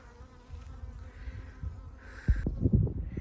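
Honey bees from a swarm living inside an old house drone in a low continuous buzz, fairly faint at first, then joined by close knocking and handling sounds.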